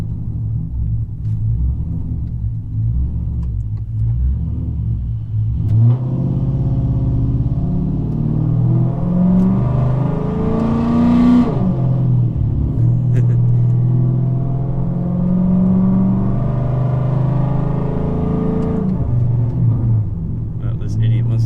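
Deep, steady rumble of a Dodge Challenger R/T with a 5.7 Hemi and Texas Speed exhaust, droning from inside the car and swelling as it accelerates, with someone talking over it.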